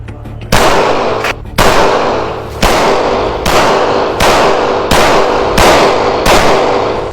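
A Glock 45 MOS 9mm pistol fires at bulletproof glass, eight sharp, loud shots spaced roughly a second apart, each ringing briefly after the crack.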